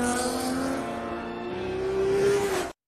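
Race cars from the animated film Turbo speed past, a loud engine whine with a rising pitch that swells and then cuts off abruptly.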